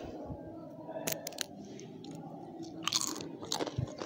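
Homemade crispy potato chips crunch loudly in a few sharp bites near the microphone, followed by steady chewing, with no talking.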